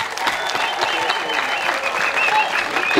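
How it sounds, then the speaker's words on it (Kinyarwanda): A congregation at a worship gathering in Bugarama claps loudly and steadily, a thick wash of applause with voices and cheers rising through it. "Dukomere Imana amashyi menshi cyane"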